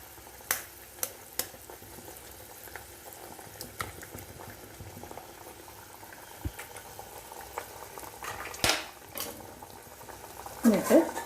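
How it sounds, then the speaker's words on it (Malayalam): Water for egg roast rolls at a gentle boil as an egg is cracked into the pot and left unstirred, giving a steady low bubbling with scattered soft pops and a few sharper splashes near the end. "ഇനി ഇങ്ങനെ വെള്ളം തിളച്ചുകൊണ്ടിരിക്കുമ്പോൾ"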